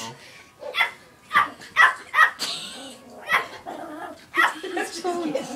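A small dog barks and yips in short sharp bursts, several close, loud barks spaced irregularly, with occasional whimpering between them.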